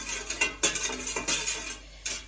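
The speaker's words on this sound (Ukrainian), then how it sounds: "Виливаємо воду, перемішуємо, щоб цукор трішки розчинився." A spoon stirring sugar into water in a pot, giving a run of light metallic clinks and scrapes that come in irregular bursts, close by and fairly quiet, with no voices.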